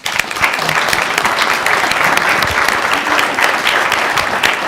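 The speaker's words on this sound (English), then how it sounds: "let's give them a round of applause" Steady applause from an audience at a school board of education meeting, dense and continuous clapping filling the room for the whole stretch at a loud level.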